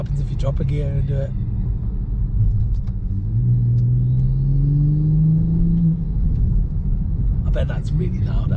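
A BMW 340i with a B58 engine and MST Performance intake revs steadily inside the cabin, a rising and falling engine tone held for several seconds, with brief talk at the start and end.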